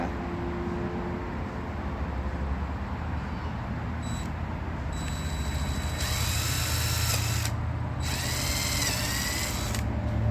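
A power drill whines steadily, its pitch rising and straining as it bites through wood, loud and close throughout.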